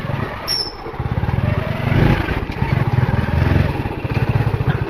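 A motorcycle engine runs steadily nearby at a graveyard entrance, with a rhythmic low throb that rises and falls slightly throughout, and no speech.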